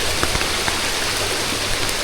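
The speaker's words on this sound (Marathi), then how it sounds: "घनदाट जंगल आहे. नदी एवढे वाहत आहे." A river runs through dense forest on the trek from Panhala toward Pawankhind, giving a continuous close hiss and splash of moving water with scattered small droplet-like ticks and no talking.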